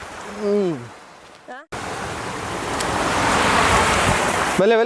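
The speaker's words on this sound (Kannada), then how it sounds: "ಈಗ ಜೋರು ಮಳೆ ಸ್ಟಾರ್ಟ್ ಆಗಿದೆ" Heavy rain roars near a waterfall, a dense, loud wash of noise that builds steadily after a brief cut, preceded and followed by short bursts of speech.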